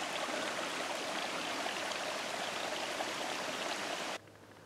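Water runs down a hillside stream on the ridge of the Clyne Valley in Swansea, a steady loud rushing flow close by that cuts abruptly to quiet just before the end.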